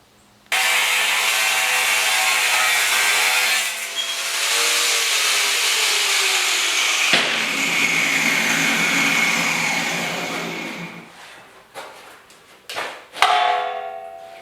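A power tool grinds and trims the edge of metal bumper stock for a 1956 Mercury/Ford rear bumper, a loud, continuous harsh whine for about ten seconds that fades out, followed by a few clanks and knocks of the metal.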